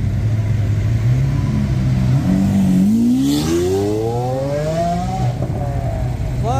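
A Lamborghini Gallardo and an SV accelerating away at a Cars&Coffee meet in Luxembourg, a loud rising engine roar with exhaust pops as revs climb.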